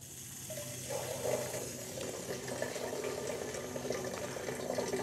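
Water runs steadily from a tap during a pump test, a continuous moderate gush with a faint underlying pump hum and no talking.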